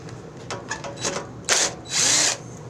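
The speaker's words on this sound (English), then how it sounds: "so I'll just take the studs off" A power tool backs the carburetor studs out of a Craftsman riding mower in a few short bursts of whirring, with faint ticks before them and a final longer, louder spin near the end.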